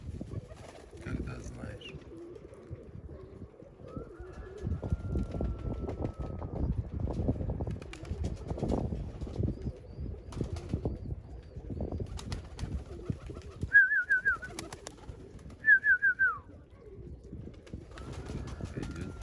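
Male pigeon cooing as it chases a female dove outdoors, low rumbling coos repeating under steady wind noise, with a couple of brief higher bird calls near the end and faint talk in the background.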